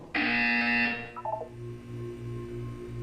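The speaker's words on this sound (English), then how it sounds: "When you hear the buzzer, look up at the ceiling." A loud, harsh electronic buzzer in Portal 2 blares for about a second, followed by a few quick descending beeps and a low pulsing hum.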